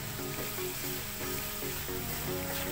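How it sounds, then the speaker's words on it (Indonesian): Ground coriander and cumin sizzle steadily as they are stir-fried together in hot oil, with a constant crackling hiss and occasional faint stirring scrapes underneath. "Kemudian untuk ketumbar ini saya juga masukkan, kita gongso jadi satu."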